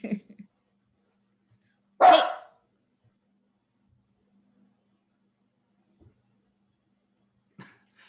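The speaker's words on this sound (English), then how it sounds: "My dog is upset about something." A single loud dog bark close by, standing alone with long silence after it and a few faint knocks and scuffs later.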